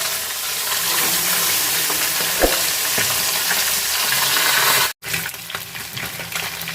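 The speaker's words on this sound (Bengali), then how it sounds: "মাছগুলো একটু কড়া করে ভাজছি" Small tilapia fish frying crisp in oil, with a loud continuous sizzle and spatter close by that cuts out for a moment before resuming. No voices are heard.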